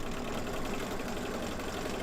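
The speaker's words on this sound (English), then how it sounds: "we're just gonna stitch a straight line and then fold it over" A sewing machine hums in a continuous, even drone as it stitches a straight seam on a summer mug rug, close and steady with no talking.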